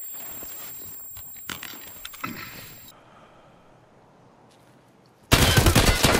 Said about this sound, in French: je suis en train de me faire sniper